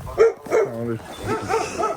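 A dog barks on a farm in Dagestan, a few loud close woofs and yips in quick succession, with a whimpering tone between barks.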